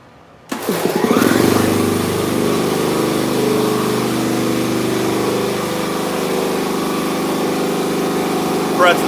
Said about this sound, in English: I gotta turn the compressor on